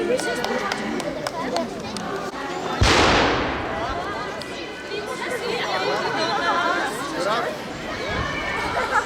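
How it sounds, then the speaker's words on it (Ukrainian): One loud, booming cannon blast rings out from a distance and slowly fades, while a crowd at an Easter celebration in Lviv chatters and moves about continuously. "стріляють з гармати"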